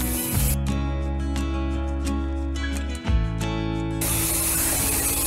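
Garlic cooks in a hot pan with a loud, steady hissing sizzle that runs for several seconds, with a steady hum underneath and no talking.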